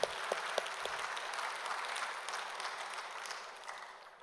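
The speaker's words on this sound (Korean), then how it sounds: "우리 함께 박수로 영광 돌리겠습니다" Applause from a church congregation in a Korean Sunday worship service, a soft, even wash of many hands at a distance, fading slightly toward the end.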